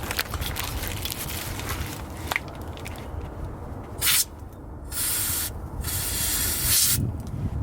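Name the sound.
white lithium grease sprayed onto exhaust valve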